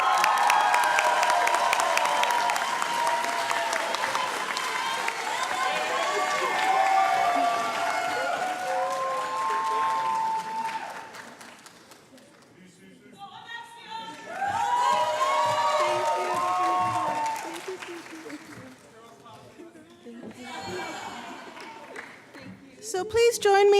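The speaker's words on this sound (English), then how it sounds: "please join me in giving another round of applause for our Latinx graduates" Graduation audience applauding and cheering at a Latinx graduation ceremony, sustained clapping with whoops and shouts that dips briefly midway, then swells again with scattered voices calling out.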